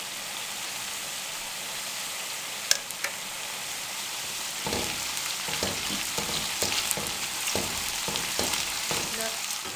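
Onions and whole spices frying in hot cooking oil for a vegetable biryani: a steady hiss of sizzling that runs throughout, joined midway by soft repeated scrapes and taps as the mix is stirred, with no talking.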